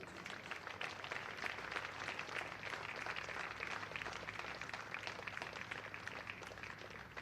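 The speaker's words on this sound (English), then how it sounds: "a big round of applause for Thomas and his team today" Applause for a youth cricket team at the Somerset U16s county final between Bridgwater and Taunton St Andrews, a faint, steady patter of clapping from a small crowd heard at a distance, sustained without a break.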